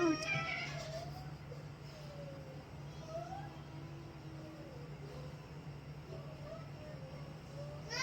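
A kitten on a small farm gives a series of thin, rising and falling meows, several scattered across a faint steady hum of a distant engine, fairly quiet overall.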